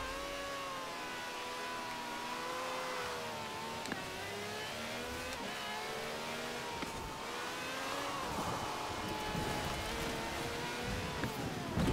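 A rear-wheel drive car accelerates in Forza Horizon 4 in the rain, its engine revving hard and rising through the gears with gliding pitch sweeps, loud and continuous throughout, with no talking.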